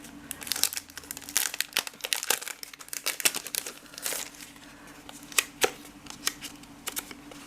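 Crinkling of a paper sticky note from a monthly craft subscription box, sharp irregular rustles and crackles close to the microphone, with no voices.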